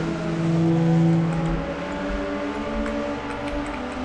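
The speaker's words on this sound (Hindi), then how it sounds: "गाइस मैंने टर्बो बूस्ट ऑन कर दिया और अब हम लोग आगे निकल रहे हैं।" A water scooter in the Riptide GP 2 racing game hums with a loud, steady, tonal engine drone under turbo boost, its pitch wavering slightly as the vehicle surges ahead, with no talking.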